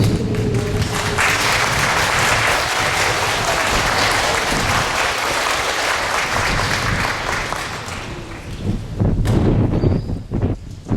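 A crowd at a school presentation day assembly applauds the award recipients with sustained, dense clapping that fills the room, easing slightly toward the end before a brief final swell.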